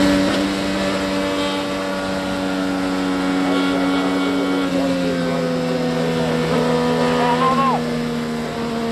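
IndyCar race car at full speed at the Indianapolis 500, heard onboard as a loud, continuous, high-pitched engine whine holding a steady tone with slight pitch shifts, under commentary.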